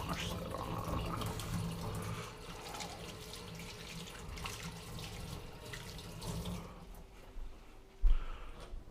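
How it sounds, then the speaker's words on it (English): Tap water runs steadily into a sink as hands are washed during a panfish catch-and-cook outing, a soft continuous splash that stops near the end, followed by a small clunk. "I just like to keep my hands clean, so I'll wash that off."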